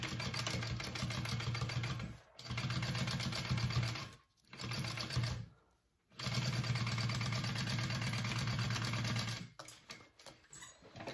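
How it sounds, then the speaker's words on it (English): A sewing machine stitches a 3/8 inch seam on a fabric shoulder bag, running in close, fast, buzzing bursts with short stops in between, alone without speech. "I'm going to sew a 3/8 inch seam line around above that"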